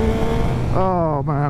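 Yamaha MT-09 motorcycle, a 2024 model, rasps through a quick auto-blipper downshift, its engine note jumping sharply in pitch twice in close succession, loud and close, with a voice speaking over the start.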